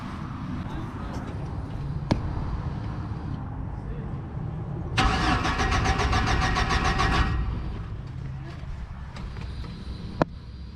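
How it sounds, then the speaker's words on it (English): A Chevy Silverado engine cranks without starting after a fuel pump replacement: a rough, steady burst of about two seconds in the middle, set against a noisy garage background with faint voices. "All right, he's gonna crank it."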